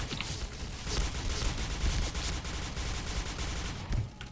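Rapid automatic gunfire from the SC2010 XMAS 2015 rifle in a shooting video game, a dense continuous burst of shots with a few sharper cracks, loud and close throughout.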